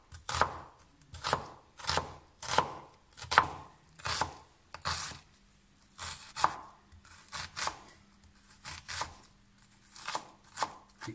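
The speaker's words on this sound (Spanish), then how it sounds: "Picamos la cebolla también finamente, lo más finito que se pueda." A knife chops onion finely on a board in quick, regular strokes, about a dozen close sharp knocks with a brief pause midway, no voices.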